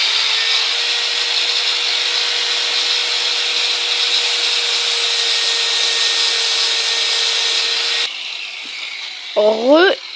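A power saw whines steadily and loudly for several seconds as it cuts, then stops abruptly, leaving brief squeaky sounds near the end.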